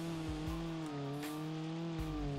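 Car engine in the driving game BeamNG.drive, straining and revving steadily to push a vehicle through deep mud, a sustained loud harmonic engine drone with slight pitch wobbles and no talk.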